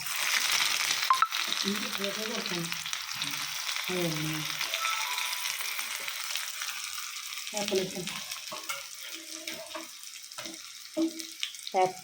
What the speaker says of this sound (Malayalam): ഞാൻ കുറച്ച് ചുവന്നുള്ളിയും പിന്നെ കുറച്ച് ഇഞ്ചിയാണ് കേട്ടോ ചെറുതായ ഇഞ്ചിയാണ് അതും കൂടിയും ഇതിലോട്ട് ഇടാം